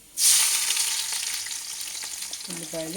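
Onions hit hot oil in a pan for a ridge gourd curry, setting off a sudden loud hiss that then settles into a steady sizzle, with a brief clink of utensils near the end.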